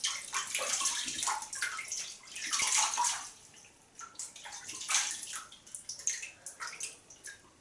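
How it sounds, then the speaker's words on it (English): Water is splashed by hand onto the face before a wet shave, bursts of splashing and dripping in a washbasin repeating in uneven waves, close and without speech. "after wet shaving, sure, let's wet the face."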